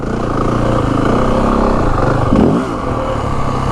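A second motorcycle rides somewhere behind on a dirt trail, its engine droning steadily under the rider's own Yamaha WR450F dirt bike, with a brief revving swell near the middle.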